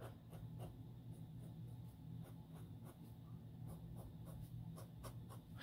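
A BENU fountain pen with a Schmidt nib scratches across paper during line testing, a faint, close, continuous rasp with a rhythm of short strokes, heard alone without talking.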